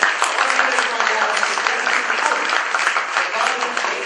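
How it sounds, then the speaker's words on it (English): Crowd at a book launch clapping steadily, a dense wash of applause filling the room from start to finish, loud and even with no pause. "Big round of applause."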